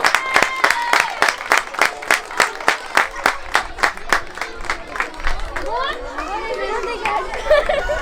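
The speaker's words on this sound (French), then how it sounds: "Allez, on les applaudit bien fort" A crowd claps in a steady rhythmic beat, loud and close, at an under-11 youth football tournament prize-giving, then the clapping breaks into scattered applause with cheering and chatter.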